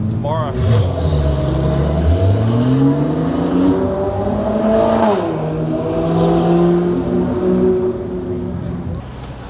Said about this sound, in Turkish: Sarı arabayı görüyor musunuz arkamda?